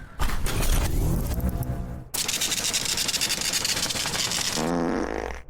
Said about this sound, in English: Does that bother you at this point? The fart?